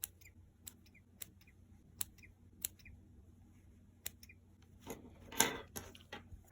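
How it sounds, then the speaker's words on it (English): Sharp, quiet scissor snips clipping embroidery thread loops at irregular intervals, close by, followed by a brief rustle of handled thread near the end. "take your scissors and clip underneath each loop"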